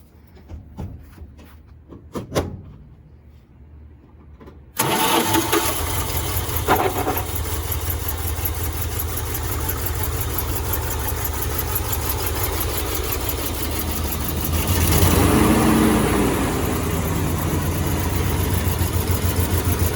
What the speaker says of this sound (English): I'll turn the key so you hear it.